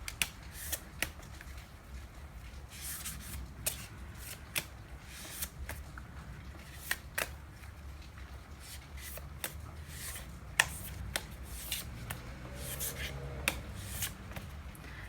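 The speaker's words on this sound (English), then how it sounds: "so let's give it a last whirlwind of a shuffle here" Tarot cards being shuffled quietly nearby, soft riffling broken by repeated sharp little snaps and taps at an uneven pace.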